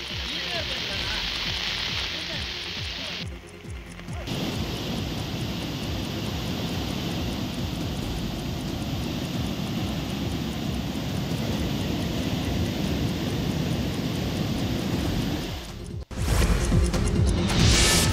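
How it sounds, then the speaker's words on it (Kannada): Flooded stream in a village near Banakal, Mudigere, Chikkamagaluru, roaring during heavy monsoon rains, a dense, steady rushing wash close by, with a brief dip and a sharp cut near the end. "ಬಣಕಲ್ನ ಕೋಗಿಲೆ ಗ್ರಾಮದ ಹಬ್ಬಿಹಳ್ಳ ಬೋರ್ಗರಿದು ಹರಿತಾ ಇದೆ"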